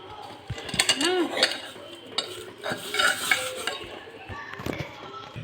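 A greasy aluminium pressure cooker being scrubbed clean, with close scraping and rubbing strokes plus occasional metallic clinks and knocks, steady and fairly loud, with no talk over it.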